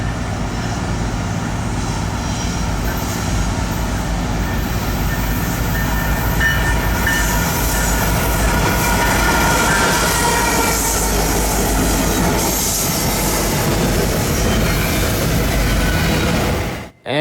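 A Norfolk Southern freight train rolls past on the Chicago line, a loud, continuous rumble of wheels and cars with rattling clatter and faint squeals, cutting off abruptly at the end.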